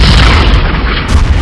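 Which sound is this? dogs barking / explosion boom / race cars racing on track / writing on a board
explosion boom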